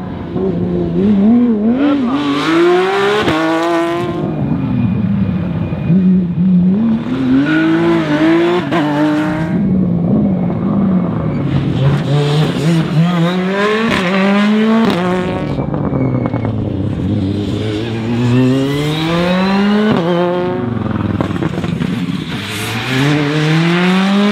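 Porsche race cars at a rally roar past one after another, engines rising and falling in pitch as they approach and recede, loud and continuous.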